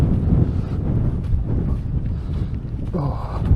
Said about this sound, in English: Oof, windy bits.